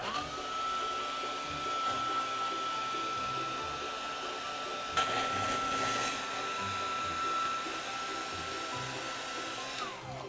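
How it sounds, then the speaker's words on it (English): A heat gun setting an embossed craft panel blows a steady, loud, even whir that keeps on without a break, with a faint thin whine riding on top. "So now I'm gonna set this panel with my heating gun."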